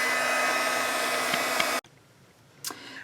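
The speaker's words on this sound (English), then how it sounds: "Actually, I'll just have to use a heat gun." A heat gun blows a steady, loud airflow roar to dry modeling paste laid through a stencil, then cuts off abruptly, leaving near silence with one faint brief noise afterward.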